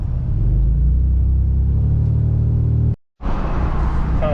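A Toyota 4Runner rolls slowly along a narrow one-lane road at low speed, a steady engine and road rumble holding throughout, broken by a brief sudden cut before the drive noise resumes.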